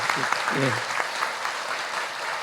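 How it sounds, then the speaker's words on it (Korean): Church congregation applauding in thanks at a ceremony installing a new senior pastor and honoring a retiring one, a steady wash of clapping through the whole short stretch with a brief voice near the start. "박수로서 감사의 표현을 한번 하도록 하겠습니다"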